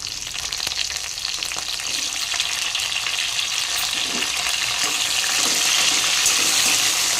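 Tomatoes hit a hot frying pan for chukkakura paneer curry, giving a loud, continuous sizzle and hiss that builds slightly and holds steady, with no talking.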